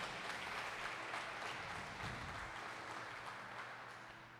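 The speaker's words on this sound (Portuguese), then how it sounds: "Se você crê, dê uma salva de palmas a Ele bem forte." A church congregation applauds in a dense, steady wash of clapping that fades slightly toward the end, heard from some distance and fairly quiet.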